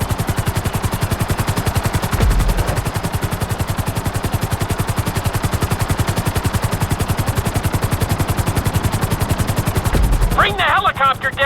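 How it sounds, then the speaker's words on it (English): Helicopter in GTA 5 flight school, a loud steady rapid rotor chop throughout, with a brief higher whine near the end. "Bring the helicopter down gently onto the helipad."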